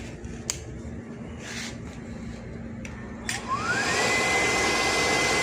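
A gas burner's blower fan starts up close by: low hum and a few sharp clicks, then a motor whine climbs in pitch under a broad, steady rushing roar.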